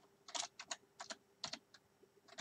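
Quick, light bursts of keystrokes on a computer keyboard, clustered in short irregular runs with brief pauses between, close and fairly quiet, with no talking.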